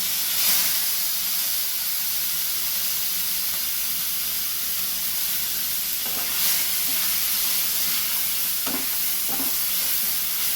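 Paste from two medium onions sizzles in a hot frying pan, a loud steady hiss close by, with a few brief scraping stirs breaking through near the end and no voices.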